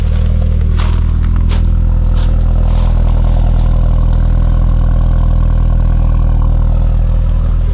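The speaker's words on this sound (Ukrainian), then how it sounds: "Вихлоп бодренький, цікавий." A BMW Z4 turbo petrol engine idles steadily with a deep, throaty exhaust burble, loud and close, with a few light clicks early on.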